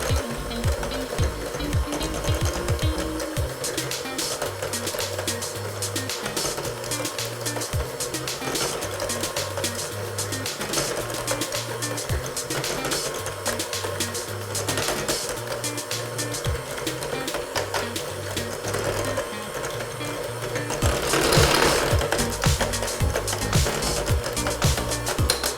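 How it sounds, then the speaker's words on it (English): An electric stand mixer hums and whirs steadily at medium speed while mixing batter for a fruit pizza, a continuous mechanical drone that swells slightly toward the end. "I would mix this on a medium speed for about 30 seconds to a minute."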